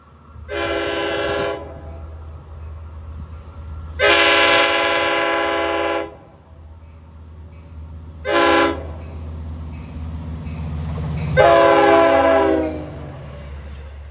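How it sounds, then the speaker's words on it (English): A DE30AC locomotive, number 404, on the Montauk Branch sounds its K5LL air horn in four loud blasts, two long, one short and a final long one, over a low rumble of the passing train. "DE30AC number 404 has a pretty decent K5LL."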